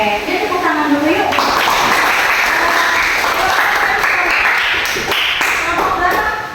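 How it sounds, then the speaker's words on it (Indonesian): Classroom applause from students and teacher, dense steady clapping filling the whole stretch, fairly loud and close, with a voice and some chatter mixed in near the start. "jadi tepuk tangan dulu yuk."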